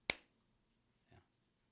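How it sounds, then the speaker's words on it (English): One sharp, close hand clap cracks out once in a quiet room, followed by a faint soft bump a moment later. "what I should do is another clap"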